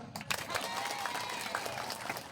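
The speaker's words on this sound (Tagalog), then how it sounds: "palakpakan naman natin ang batang ito" Applause from a crowd at a political rally in Antipolo, a steady wash of clapping that carries through the whole stretch at moderate level, with a few louder claps near the start.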